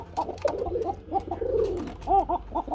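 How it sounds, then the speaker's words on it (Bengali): A pair of Kuka pigeons cooing repeatedly in soft, rounded bursts, close and fairly clear over a low background hum. "কুকা কবুতর জোড়াটা ডাকতেছেন"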